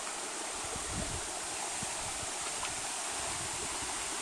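Water of the Selendang Bidadari waterfall and its stream in Pati, Central Java, a constant even rush of flowing water with light splashy detail, no voices.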